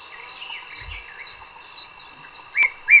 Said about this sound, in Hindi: चारों तरफ पक्षी चहकने लगी हैं।